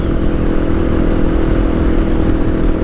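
A motorcycle rides steadily while leaning to the left during a countersteering demonstration, its engine a constant mid-pitched drone with wind rumble held at even loudness throughout.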